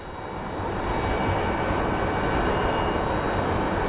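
A SkyWest Embraer jet at Phoenix Sky Harbor airport during pushback gives off a steady engine whine and broad roar that swells in the first second, then holds constant, with a high tonal hum throughout and nobody talking.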